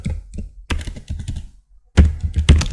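Keys clatter on a computer keyboard as a SQL command is typed, in quick uneven bursts of close, crisp taps separated by short pauses, with no voice present.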